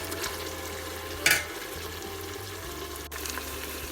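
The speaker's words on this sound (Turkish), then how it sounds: "Soğanlarımızla birlikte güzelce sotelensin." Onions and meat sautéing in a pan for Turkish kuru fasulye give a steady close sizzle and stir, with one brief louder scrape partway through and no talking.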